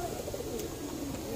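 Madrasi and Punjabi pigeons coo in a soft, continuous murmur inside a loft in Delhi, close and steady with no clear breaks.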